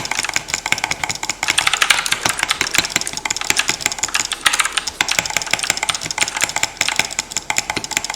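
Rapid computer mouse clicking during Minecraft PvP play on the MineMen Club server forms a dense, fast, steady train of sharp close clicks, with a low background hum and no talking.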